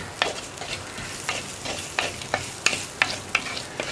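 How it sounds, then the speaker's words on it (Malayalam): Moringa leaves cook in a pan for a buttermilk curry. A low sizzle runs underneath while the spoon scrapes the pan in a regular series of about ten quick, close strokes. "ഒരു 2 മിനിറ്റ് ഒന്ന് ഇളക്കി കൊടുത്തിട്ടുണ്ടെങ്കിൽ തന്നെ മുരിങ്ങയില കുക്കായി കിട്ടും"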